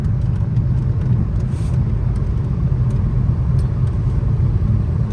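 Inside a Dodge Challenger SXT with a V6 engine, a continuous low cabin rumble of engine and road noise runs steadily while driving, with no voices.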